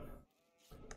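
A sheep bleats in the video game RimWorld, two short faint wavering cries separated by a brief gap, quiet and close with nothing else around them.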